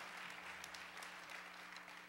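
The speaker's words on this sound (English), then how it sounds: "Give it up for the beautiful, beautiful singers and the band" At a concert in Paducah, an audience applauds the singers and band with sustained, even clapping and a few cheers, heard at a distance under a faint steady hum.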